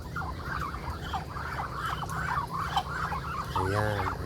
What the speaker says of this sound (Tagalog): yung mga alaga kong bibe